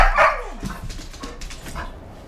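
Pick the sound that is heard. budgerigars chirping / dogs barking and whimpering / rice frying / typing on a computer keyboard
dogs barking and whimpering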